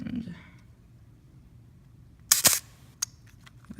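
A vintage camera shutter fires at a slowed shutter speed, giving two sharp mechanical clicks close together and then a fainter snap, following soft voices and quiet handling noise.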